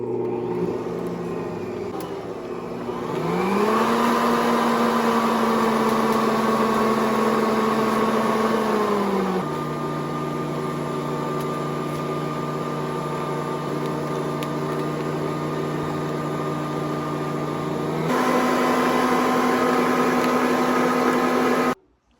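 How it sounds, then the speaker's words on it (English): A stand mixer whirs steadily as it beats butter, its motor tone rising as it speeds up, settling, then shifting pitch at each speed change, loud and close with no talking. "I had already started mixing up this butter."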